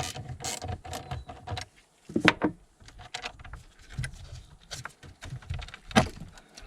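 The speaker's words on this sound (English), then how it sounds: "we're going to remove the battery negative cable" A 10mm spanner loosens the negative battery cable clamp on a BMW E60 M5, giving a run of close metallic ratcheting clicks and scrapes with sharper clinks near the middle and end, no voice.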